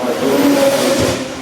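McLaren supercar engine accelerating at the Goodwood Festival of Speed, a loud rising rev held briefly, close and alone with no voices.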